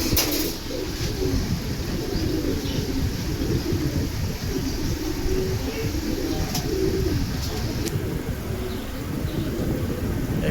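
Silver pigeons coo in low, soft repeated calls amid a constant rumbling wash of background noise, with a few faint sharper sounds.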